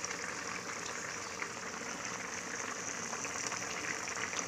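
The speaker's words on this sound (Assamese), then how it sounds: "বিৰাট উতলিছে চাব দেই কেনেকৈ উতলিছে" A crab dish cooked with fermented bamboo shoot (mestatenga) boils vigorously in a pot, giving a steady, dense bubbling hiss that stays even throughout.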